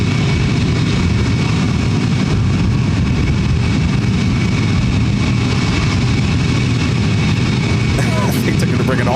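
A STARLUX airliner on its inaugural flight takes off from Ontario airport in California, a loud, steady low engine roar lasting throughout with broadband rumble and no break.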